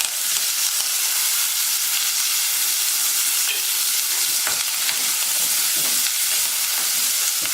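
Steady, dense sizzling of chopped tomatoes frying in a hot pan with crushed garlic and curry leaves for pepper rasam, a continuous crackling hiss with small pops and stirring scrapes, close and fairly loud.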